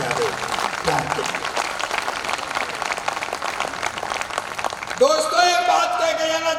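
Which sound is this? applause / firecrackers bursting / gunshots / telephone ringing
applause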